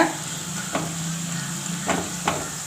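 Nendran banana slices sizzle steadily in hot oil for banana chips, with a few soft scrapes and clinks of a utensil stirring the pan.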